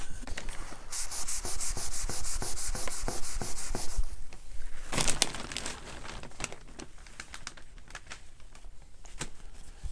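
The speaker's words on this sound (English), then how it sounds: "Denatured alcohol on the sanding sealer." A cloth rubs back and forth over a sanding sealer finish with denatured alcohol, producing a rapid, steady scrubbing rhythm, close and clear, briefly pausing mid-way before continuing more softly.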